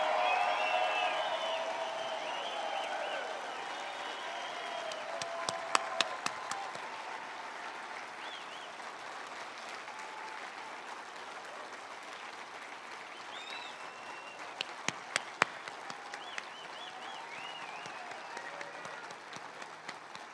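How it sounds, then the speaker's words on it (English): Outdoor crowd applause at an evening fireworks event at Mount Rushmore: broad, sustained clapping heard from a distance, with a few sharper pops standing out, plus some crowd cheering. "Would you give them a round of applause?"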